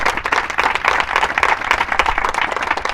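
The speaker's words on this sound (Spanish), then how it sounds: "Dale palmas fuertes al Señor" A church congregation claps loudly together during a Sunday service, producing a dense, continuous patter of many hands with no voices standing out.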